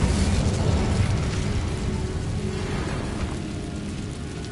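An Incendio fire spell cast in Hogwarts Legacy, a loud burst of roaring flame at the start that fades into a crackling, rumbling tail over the next few seconds.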